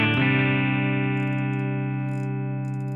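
A Two Notes Opus amp emulator with added distortion, sounding as one sustained, thick, overdriven guitar chord that rings and slowly decays over a few seconds, loud and alone.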